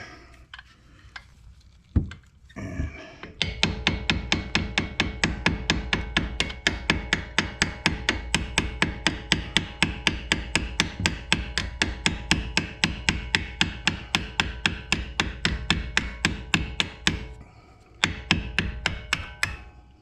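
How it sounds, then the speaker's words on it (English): A hammer strikes a punch to drive out a brake caliper bolt on a Cadillac CTS-V with the LT4 engine, a long, steady run of loud metallic blows at a fast, even rhythm, close up, after a few scattered knocks. "Just put your punch like that, put it in there, right where the bolt was at."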